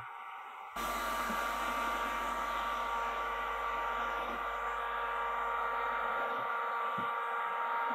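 A heat gun blows steadily on tinted window film being shrunk to the curve of a Tesla's glass, a loud, continuous airy roar with a low hum, running unbroken after a sudden start.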